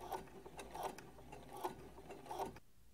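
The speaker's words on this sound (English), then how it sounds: "the basting stitch is just the longest stitch on your machine" Sewing machine running a long basting stitch, faint rhythmic mechanical clicking and whirring in regular pulses that stops near the end.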